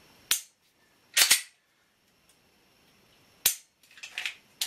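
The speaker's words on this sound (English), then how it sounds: "that's what it looks like when you're shooting a handgun" Handgun shots, three sharp loud reports spaced out over a few seconds, the later ones followed by a rattling clatter, with quiet between them.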